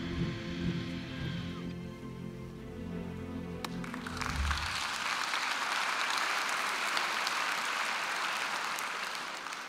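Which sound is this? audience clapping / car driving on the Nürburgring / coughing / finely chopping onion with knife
audience clapping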